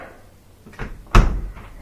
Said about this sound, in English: All right, close that up.